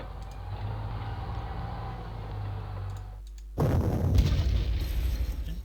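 Artillery fire in the wartime strategy game Panzer Corps: a low steady rumble gives way to a sudden loud burst of booming, crackling blasts that keeps rolling to the end.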